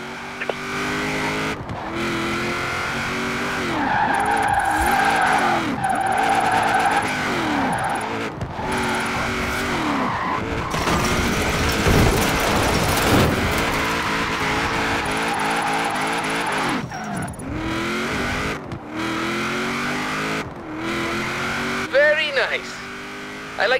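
A car drifts through tight turns in the racing video game Forza Horizon 4, with its engine roaring and revving and its tyres squealing as it slides, all continuous and loud while a voice talks over it throughout.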